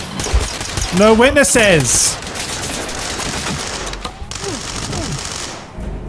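Rapid-fire gunfire in the tactical shooter game Ready or Not, a loud burst of quick automatic shots near the middle with a few scattered shots later, while a voice talks over the action.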